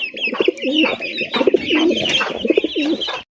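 Fancy gola pigeons at a pet market, cooing close up in a rhythmic run of several throaty calls that pulse and repeat without pause.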